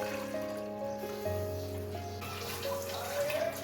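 Water runs and pours steadily into a cooking pot, with a rising, filling tone and a faint metallic ring.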